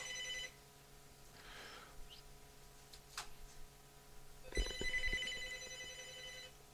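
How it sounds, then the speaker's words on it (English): Telephone ringing indoors, faint electronic ring tones heard at the start and again near the end over a quiet room hum, with a few small clicks between. "the phone rings, I have to take it"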